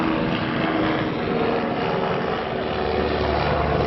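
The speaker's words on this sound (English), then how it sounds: "See a police helicopter?" A police helicopter flying overhead drones continuously, a dense whirring engine noise that holds steady and fairly loud throughout, with no speech.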